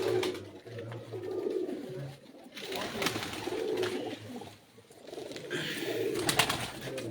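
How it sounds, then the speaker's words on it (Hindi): Racing pigeons of a champion flier's breed coo steadily in low repeated rumbles, close by, with chirps and rustling around them and no talk. "ये आमिर के परवाजी कबूतर हैं जी।"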